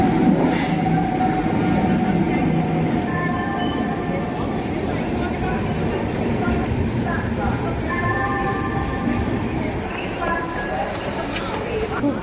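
Steady rumble and rattle inside a crowded passenger train on the move, with a constant low roar and faint squeals throughout, and an indistinct murmur of voices in the background.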